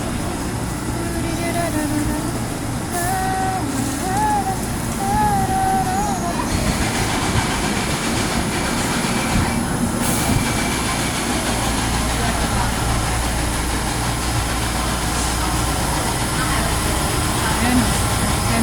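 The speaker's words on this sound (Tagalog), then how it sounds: "Semi bullet train nga yan guys" A semi bullet train stands at Chunglo station with its engine humming low and steady alongside rumbling and hiss, while a person talks over it and brief tonal chirps sound early on.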